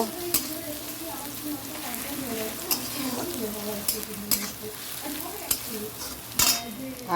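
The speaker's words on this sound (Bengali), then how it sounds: "এখন আলুটাও ভেজে রেখে দিচ্ছি" Potatoes frying in a pan make a continuous close sizzle, broken by sharp spatula scrapes and stirring knocks at irregular intervals.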